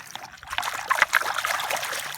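A dirty agate rock rinsed in the Yellowstone River in eastern Montana, close trickling and splashing water with small bursts of dribble, no talking.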